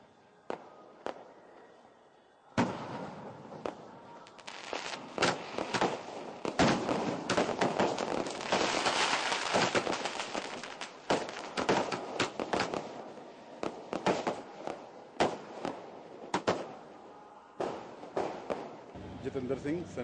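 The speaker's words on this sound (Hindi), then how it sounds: "शाम के वक्त रहरास पाठ के बाद जहाँ पर आतिशबाजी की गई" Repeated sharp fireworks bangs and crackles at an evening Sikh Gurpurab celebration, loud and dense in bursts with a sustained rumbling barrage in the middle, crowd voices faintly underneath.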